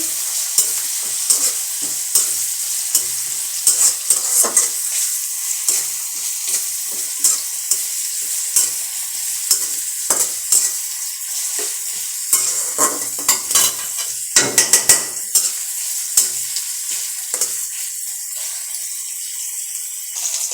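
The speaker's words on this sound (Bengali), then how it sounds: "কাঁচা লঙ্কা দিব কয়েকটা আবারও ভেজে নিব" Green chillies fry in hot oil in a pan, a continuous bright sizzle close by with intermittent clicks and scrapes from stirring, steady throughout without any talking.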